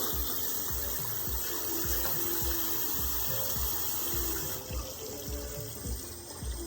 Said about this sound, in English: first we turn on the water